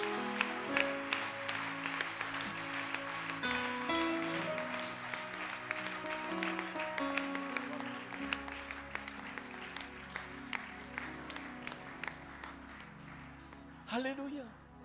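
A church congregation applauds during a French-language worship service. Steady, dense clapping from a large crowd fills the whole stretch over music, with voices mixed in and a brief rising shout near the end.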